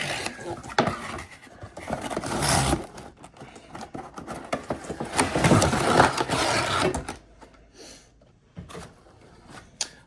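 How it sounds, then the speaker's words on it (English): Packaging of an AT-ST Scout Walker toy vehicle from the Star Wars Empire Strikes Back Vintage Collection being opened, with close crinkling, tearing and cardboard rustling in irregular bursts that fade into quieter handling near the end. "let's open this vehicle up and see what we got on the inside"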